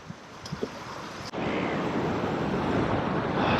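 Waves surge and crash against a rocky shoreline near Sydney, Australia, a loud continuous wash of surf that swells after a brief lull, with wind buffeting the microphone throughout.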